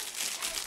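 Bubble wrap wrapped around a wristwatch crinkles as it is unpacked, a close, dense crackling that stays fairly constant throughout, with no talking over it.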